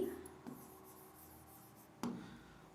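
Pen or pencil scratching on paper while an answer is written out by hand: soft, faint, continuous strokes, with a couple of sharp taps and a brief voice fragment partly over it.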